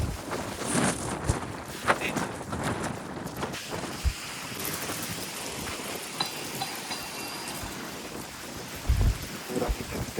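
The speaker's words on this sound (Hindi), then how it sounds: "एकदम से, कैसी है आंधी।" A sudden storm brings steady heavy rain with rolling thunder claps, loud and close, with a deep boom near the end; no one speaks.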